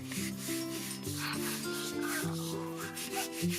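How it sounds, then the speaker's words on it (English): A Hatchimals toy has its head and tummy rubbed, giving a soft, steady scratchy rubbing sound over a low background hum, close by and continuous throughout. "Let's give it a nice big rub on its little head."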